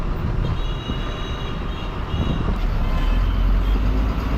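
Heavy city bus engine rumble with road noise, a steady low drone as the bus moves and turns left on a Chennai road, heard from inside.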